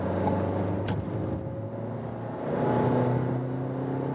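A 2019 Renault Koleos SUV accelerates in third gear, its engine droning steadily from inside the cabin and swelling as revs climb, with road rumble underneath.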